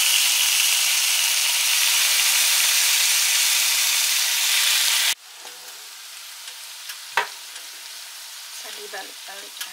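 Mushroom satay on a grill gives a loud, dense sizzle that cuts off abruptly halfway through, followed by quieter clicks and taps of the skewers being turned.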